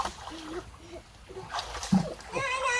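Two children splash in a shallow village stream, with intermittent splashes and sloshing water under nearby voices and chatter.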